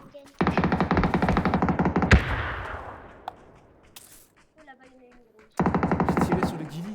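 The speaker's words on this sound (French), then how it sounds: "J'ai tiré sur le ghillie, Nico, mais ils étaient deux." Automatic gunfire in the PUBG video game, loud sustained bursts of rapid shots with a sharp crack and echoing decay, a pause, then another long burst, with brief speech in between.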